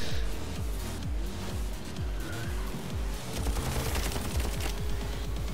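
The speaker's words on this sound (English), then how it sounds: "I got my machine gun now." Rapid machine gun fire in the Blaze Rush vehicle combat racing game, a steady stream of repeated shots over engine roar and busy game sound, loud and continuous throughout.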